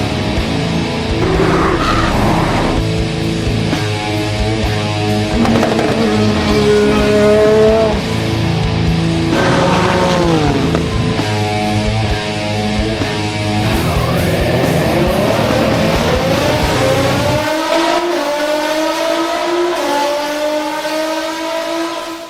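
A Nissan GT-R R35 supercar engine revs hard and loud through rising and falling gear pulls, with tire squeal and a sustained high-rpm drive-by, close and continuous throughout.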